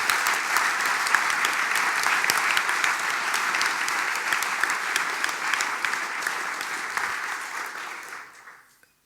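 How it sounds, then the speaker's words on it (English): A conference audience at Django: Under the Hood 2016 gives sustained, loud, dense applause for the sponsors, holding steady for about eight seconds before tapering off abruptly into silence. "So can we just have a final round of applause for all the sponsors?"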